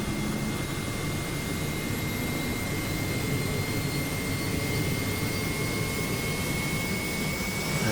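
A turbine engine on a DHC-3 Otter aircraft spools up during start, a steady loud whining roar with a high tonal whine, close and unbroken throughout.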